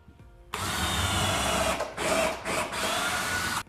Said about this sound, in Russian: Засверливаемся.